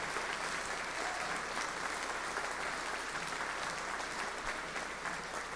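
Audience applause from a political event crowd, a dense steady wash of clapping sustained for several seconds at moderate distance with no pauses.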